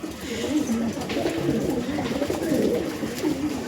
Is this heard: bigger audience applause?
no